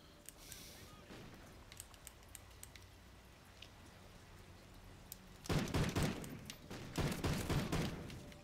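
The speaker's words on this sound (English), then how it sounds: "This gun has a slow ass rate of fire" A slow-firing gun in the shooter game Ghost fires a few spaced, loud shots after a quiet stretch of faint ambient noise and small clicks, the reports coming in two clusters near the end.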